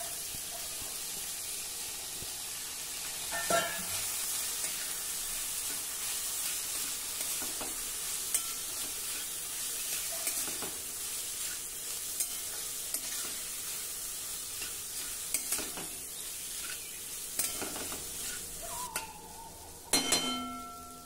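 Soaked kurdai, a crisp wheat snack, stirred and frying in a pan: a steady close sizzle runs throughout, punctuated by repeated scraping and clacking of the spatula, loudest near the end, with no speech.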